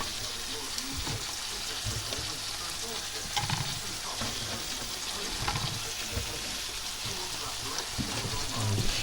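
Aubergine slices for moussaka frying in a pan in a cramped home kitchen, a steady broadband sizzle running throughout with occasional clatter from turning the slices, close and fairly even in level.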